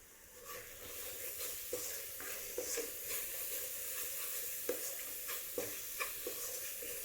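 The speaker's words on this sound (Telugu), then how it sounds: "గరం మసాలా వేసుకుందాము, సాల్ట్, ధనియా పౌడర్, కారం, వీటన్నిటిని మంచిగా వేయించుకుందామండి" Garam masala, salt, coriander powder and chili powder frying in a pan for a masala gravy, a faint continuous hiss and sizzle with light scattered scrapes and taps from stirring, no speech.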